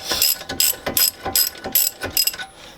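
A torque wrench ratchets as brake caliper bolts are tightened toward 98 foot-pounds, giving about seven loud, close clicking bursts in a steady back-and-forth rhythm, with no voices.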